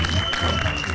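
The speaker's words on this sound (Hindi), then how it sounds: "उनके लिए जोरदार तालियां हो जाएं" Audience at a film trailer launch event applauding and cheering in a loud, continuous crowd wash, with a voice talking over it and a steady electronic hum.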